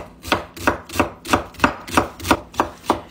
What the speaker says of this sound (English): Cut up some onions.